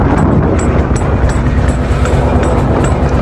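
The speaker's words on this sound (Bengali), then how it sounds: "প্রচুর বাতাস এখানে" Strong wind buffets the microphone on a country boat trip on the Meghna river, a steady loud rumbling roar that lasts throughout with no voices.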